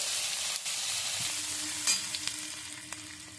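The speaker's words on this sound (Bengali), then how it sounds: "তেলের মধ্যে দিয়ে দিচ্ছি আমি গ্রেট করে রাখা আদা আদাটা একটু ভেজে নিচ্ছি" Grated ginger fries in oil in a wok with a steady, close hiss of sizzling and a few light taps and clicks from stirring.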